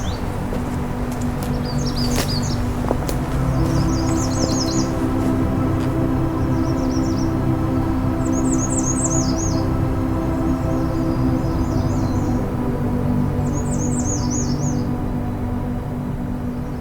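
Repeated upward-spiralling songs of a Swainson's thrush on a June afternoon hike at Pine Tree Point North, six phrases at steady intervals, moderately distant over a constant low rumble of background noise.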